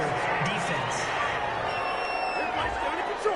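A stadium crowd in a football video game reacts to a penalty call with a steady, loud roar of murmuring and jeering that fills the whole stretch without pause.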